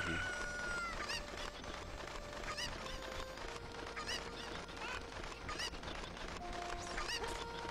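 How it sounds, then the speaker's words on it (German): Chickens clucking and squawking in the video game Zelda: Ocarina of Time, with repeated short bird calls over continuous game music and background noise. "Da gibt's einen Huhn."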